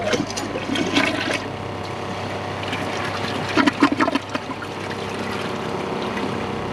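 A second flush of a 2015 Kohler Cimarron Class 6 toilet during a performance test: a rushing surge of water that settles into a steady swirl and gurgling drain, close and fairly loud, no talk.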